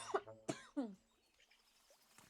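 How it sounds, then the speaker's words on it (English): A person clears their throat close by in three short, rough bursts in quick succession, followed by near-silence. "I need to clear my throat."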